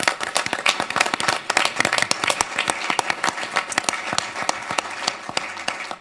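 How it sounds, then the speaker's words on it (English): Steady applause from a group at a city council meeting, dense overlapping hand claps throughout, fairly loud and close, with a few faint voices underneath. "We want to give you a round of applause."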